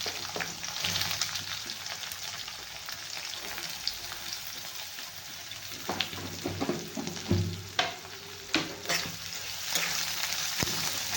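Onion and green chilli sauté in oil in a pan for kanda poha, a continuous loud sizzle with occasional scrapes and clacks of stirring up close.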